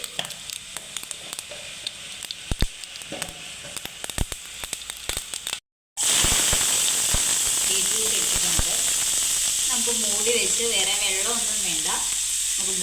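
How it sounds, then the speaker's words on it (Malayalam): Mustard seeds go into hot oil for a Kerala karimeen pollichathu: a few scattered clicks, then after a short gap a loud, dense, continuous spluttering crackle that carries on steadily. "എണ്ണ ചൂടായപ്പോൾ കടുകിട്ടു"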